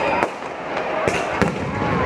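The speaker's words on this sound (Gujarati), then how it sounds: "આતશબાજી ચાલુ થઈ ગઈ છે." Fireworks go off near a Hindu temple at an evening festival in Sarangpur, with several sharp bangs and crackles bursting over a constant crowd roar. Voices mingle in the background.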